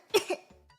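A single sharp, close cough bursts out with a second smaller hack right after, then a brief throaty rasp fades into silence, from someone recovering from illness.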